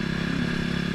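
A KTM RC390 motorcycle rides along with a steady, close engine drone and low rumble, with no talk over it.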